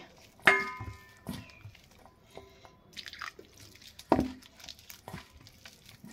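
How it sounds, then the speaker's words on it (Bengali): Sattu flour being kneaded by hand with a little water, with chopped raw onion mixed in, giving soft wet squelches, taps and drips in a few scattered bursts, close and fairly quiet. "দিয়ে দিচ্ছি সামান্য পরিমাণে জল দিয়ে আমি ছাতুটা মেখে নিচ্ছি"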